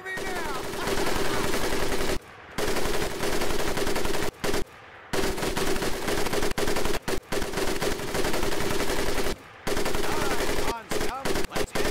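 An M1919A4 .30 caliber machine gun fires in Medal of Honor: Pacific Assault, loud sustained bursts of rapid automatic shots broken by a few brief pauses, close and dominant.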